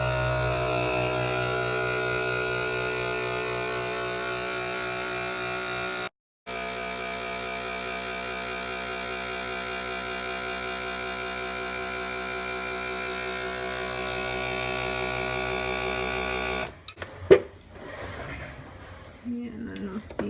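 A FoodSaver vacuum sealer pulls air from a bag of dry cornbread mix with a loud, steady motor drone held for about sixteen seconds and broken by one short gap, then cuts off into brief clicks and handling noise.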